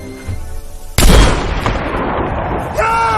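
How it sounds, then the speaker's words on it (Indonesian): A single loud, close gunshot in a Korean crime film, as police shoot a man's arm, bursts out sharply from a quieter background and leaves a long, noisy tail of echo. "Tapi sayangnya lengan Tae-so ditembak oleh polisi khusus saat hendak menghabisi nyawa Kang Chun."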